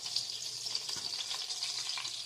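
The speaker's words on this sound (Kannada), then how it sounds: "ಈಗ ಇನ್ನೂ ಒಂದು ಸ್ಪೂನ್ ಬೆಣ್ಣೆ ಹಾಕ್ಕೊತಾ ಇದ್ದೀನಿ." Capsicum and onion fry in butter in a pan, giving a steady, soft sizzle with faint crackles, close by and quiet, with no talking.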